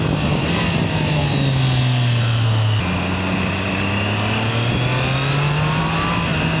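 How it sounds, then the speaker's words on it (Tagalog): A freshly serviced 3-cylinder motorcycle engine runs smoothly, a loud, steady hum with a slowly shifting pitch and a brief dip partway through, with no voices over it. "Grabe yung smoothness ng motor."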